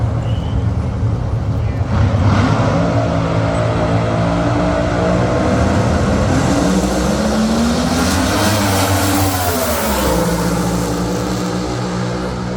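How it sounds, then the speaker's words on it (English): Funny car making a drag racing run at Maple Grove Raceway in Reading, Pennsylvania, a loud continuous roaring engine with a rising and falling pitch sweep, mixed with crowd and ambient noise throughout. "Funny car."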